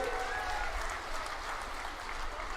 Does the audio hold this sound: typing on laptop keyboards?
no